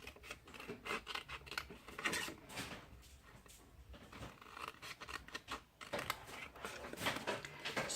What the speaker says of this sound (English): now I'll cut these 2 squares in the corner